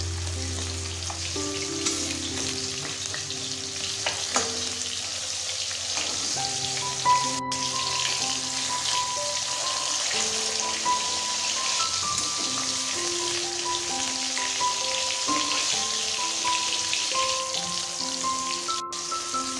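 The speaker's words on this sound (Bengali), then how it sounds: "মাছের এক পিঠ ভাজা হয়ে গেলে আরেক পিঠ উল্টে পাল্টে ভেজে নেব" Rohu fish pieces fry in hot oil in a kadai and are turned to cook the other side, giving a steady, close sizzle dense with small crackles and pops.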